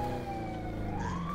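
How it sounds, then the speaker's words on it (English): A police car siren in Call of Duty: Black Ops Blackout sweeps upward steadily, loud and close, layered over a low engine drone. "Got them sirens on."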